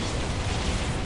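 Eldar Wraith Guard D-cannons firing in Dawn of War Ultimate Apocalypse, a steady, dense roar of explosive rumble that runs unbroken for just over a second with no distinct separate blasts.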